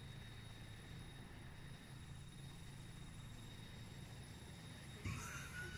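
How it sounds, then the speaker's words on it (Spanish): A helicopter in the video game Insurgency Sandstorm drones steadily overhead at low, distant level, with a brief sharper noise near the end. "Viene otro helicóptero para decir, creo que es para personal."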